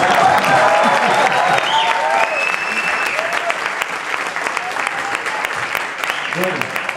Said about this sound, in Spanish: Aplausos para Pedro Brul.